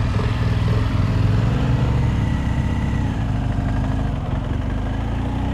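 A BMW R 1250 GS Adventure motorcycle in enduro mode pulling away, its engine a steady, close, low throbbing rumble that holds an even level throughout.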